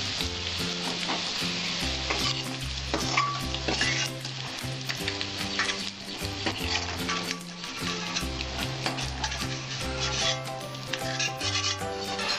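Fish frying in a pan of oil, a steady close sizzle running throughout with occasional stirring and scraping, alongside a Bengali prawn and raw jackfruit dish being cooked.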